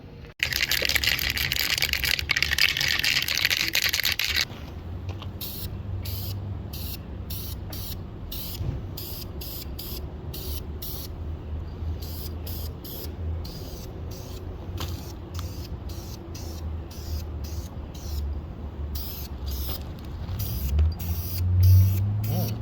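Dark blue aerosol paint sprayed onto Ford Fairmont parts with taped-up bushings and grease fittings: a long continuous hiss at first, then a steady series of short spray bursts, close and fairly loud, with no talking.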